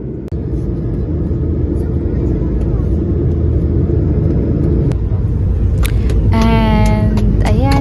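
Airplane cabin noise during the landing approach into Dubai: a loud, steady engine and air rumble fills the cabin throughout, with a few short sharp knocks and, near the end, a faint electronic chime or tone.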